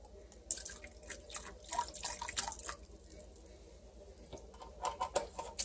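Vegetable broth poured into a pan of broken-apart pasta in a home kitchen gives a soft, uneven liquid patter and dripping that comes in short splashy bursts, close by and fairly quiet.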